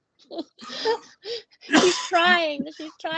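One sharp sneeze from a woman bursts out in the middle of a chat, with short breathy vocal sounds and speech just before and after it.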